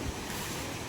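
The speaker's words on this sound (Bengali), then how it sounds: "তাও ঢেউটা এত বেশি ছিল" Sea waves washing onto the beach at Shankarpur on the Bengal coast, a brief steady roar of surf with wind noise.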